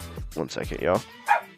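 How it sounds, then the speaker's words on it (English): A pet dog at home yaps several times in quick succession, close and fairly loud, with a short sharp yip shortly after, while someone speaks briefly over it. "Sorry for my dog."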